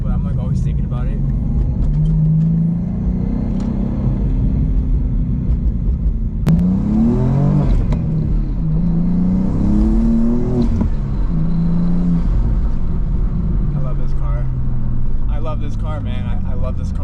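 A BMW M5 CS revs hard on a race track, its engine note climbing and falling through repeated loud acceleration pulls and gear changes, with a driver talking over the steady cabin roar.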